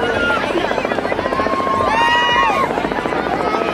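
A helicopter dropping ping pong balls chops with a steady rapid rotor beat close by, under excited talk and shouts from a crowd.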